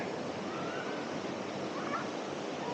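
The Kasa waterfall rushes in a steady, dense roar of falling water, continuous and fairly near with no voices.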